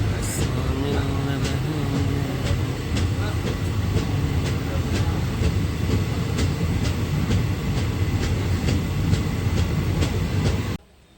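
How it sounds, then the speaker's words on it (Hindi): An Indian passenger train, service 13510/12988 on the Samastipur to Kolkata route, runs toward Asansol with a continuous heavy rumble and regularly repeating clickety-clack of wheels over rail joints, heard steadily close by throughout. "हमारी ट्रेन अब आसनसोल की ओर जा रही है"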